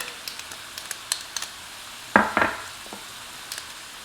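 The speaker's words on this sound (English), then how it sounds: "We're just going to stir this in" A spoon scrapes through a shrimp pan sauce as green onions, garlic and oregano are stirred in, with a quiet sizzle, light taps, and a couple of louder scraping strokes midway.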